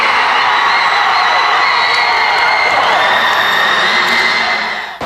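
A small but loyal football crowd cheers and shouts steadily at a youth match against Bayern Munich, a loud, dense roar of voices sustained throughout without pause.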